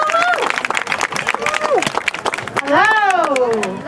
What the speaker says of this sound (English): Another round of applause for Barb